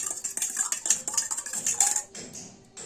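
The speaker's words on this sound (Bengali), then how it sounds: "মিশ্রণটাকে আমরা ভালো করে মিশিয়ে নেব।" An egg, onion, tomato and chilli mixture being beaten in a bowl for omelette curry, a quick run of close metallic clinks and taps from a spoon against the dish, then tapering off.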